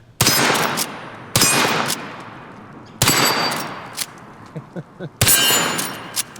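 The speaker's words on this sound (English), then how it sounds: "This is full power 44 Magnum, by the way." Four loud, sharp reports from a Henry Model X lever-action rifle firing full-power .44 Magnum, each with a ringing echo, spaced unevenly with metallic lever-cycling clacks between shots.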